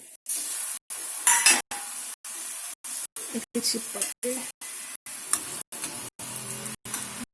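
Chakli, a spiral Diwali snack, fries in hot oil with a continuous bright sizzle and crackle, chopped into short segments by brief silent cuts. Faint clinks of a utensil and a voice sit underneath.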